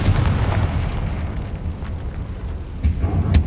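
A rumbling, booming blast from the Confringo spell in the game Hogwarts Legacy, heavy low roar sustained for several seconds with sharper bursts near the end.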